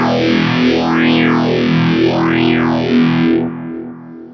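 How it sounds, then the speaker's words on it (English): Distorted electric guitar runs through a ROSS phaser pedal in phaser mode, the sustained chord sweeping up and down in slow, wide cycles before the sound drops away near the end. "Let's go back into phaser mode."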